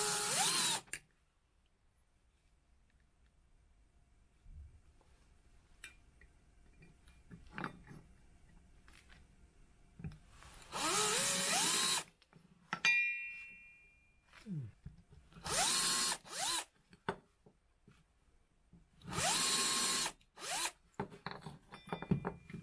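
Power drill boring holes in plywood, several short separate bursts of whirring with quiet pauses between, close and fairly loud.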